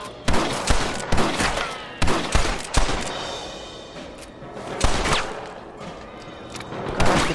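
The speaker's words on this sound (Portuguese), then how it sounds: "Caraca, tem como atirar assim também" Gunfire in Red Dead Redemption: repeated loud, sharp shots in irregular bursts with echoing tails, close and punchy, mixed with game background noise.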